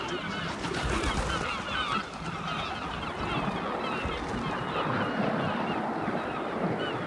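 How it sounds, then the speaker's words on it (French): A large flock of seagulls crying as they take off from isolated rocks at sea, dense overlapping squawks and calls continuing throughout, loud and busy over rushing wind and water. "Une grande quantité de mouettes, seuls habitants de rochers isolés en pleine mer, s'envolèrent en criant."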